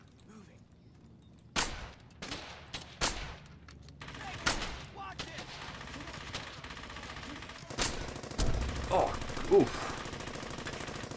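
Gunfire in the WWII shooter Brothers in Arms: Hell's Highway, sharp rifle cracks and bursts of automatic fire with loud close shots and busier distant firing, with a brief voice grunting once amid the battle.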